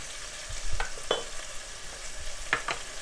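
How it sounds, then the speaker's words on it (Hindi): Garlic ginger paste fries in a pan for a Hindi/Urdu recipe, giving a steady soft sizzle under a few light scrapes and stirring clinks. "एक टीस्पून लहसुन अदरक का पेस्ट डाल देंगे। इनको अच्छी तरह से फ्राई कर लेंगे हम।"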